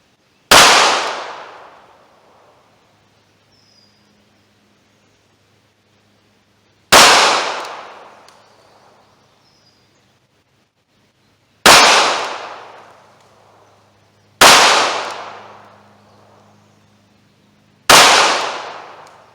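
Five sharp pistol shots from a Ruger LCP firing Hornady American Gunner .380 ACP 90 grain XTP rounds, loud and close, spaced several seconds apart, each with a quick decaying ring.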